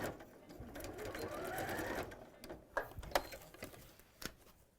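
A sewing machine runs a reverse stitch into the corner of a fabric bag, with a steady whirring burst followed by several short stop-start stitching runs, close and moderately loud.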